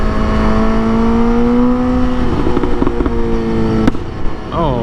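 A Suzuki GSX-S motorcycle at a bike fest revs hard, a loud, close engine roar climbing in pitch through several sustained surges before a sharp crack and a quick blip at the end.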